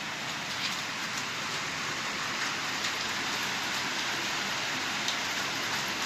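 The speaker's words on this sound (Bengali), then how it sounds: "কিছুক্ষণ আগে থেকে বৃষ্টি শুরু হয়েছে" Steady rain falls outside a hotel room in Cox's Bazar, set between hills and the sea, making a soft, even hiss of drops on surfaces with no voices.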